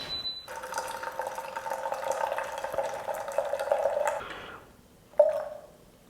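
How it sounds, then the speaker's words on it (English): Water pours in a steady thin stream into an Aeropress coffee brewer for about four seconds, close and fairly quiet, stops, then one brief splash follows. "add another 100 grams of water"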